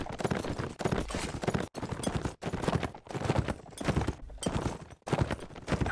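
Galloping horse hooves in the Mount & Blade video game, a light hunter horse carrying a rider into a fight with a handful of enemies, giving fast continuous clip-clop with busy battle noise throughout.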